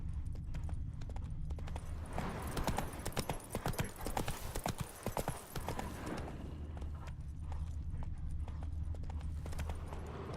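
In The Witcher 3, the horse Roach's hooves clip-clop in a steady walking rhythm, loud and close, with a brief flurry of heavier hoof strikes in the middle over a low ambient hum.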